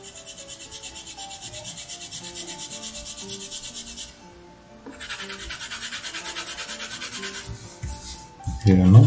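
Colored pencil rubbing across paper while an apple is colored in, steady close scratchy strokes in long repeated passes, a short pause midway, then more strokes ending with a louder knock.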